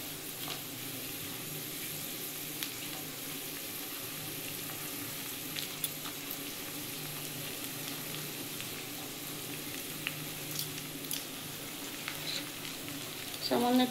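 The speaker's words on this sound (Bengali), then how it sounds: "আমার এবার বিনসগুলো একটু ভেজে নেব।" Carrots and beans fry steadily in a pan for a vegetable masoor dal, a close, even sizzle with faint stirring taps throughout and a louder scrape at the very end.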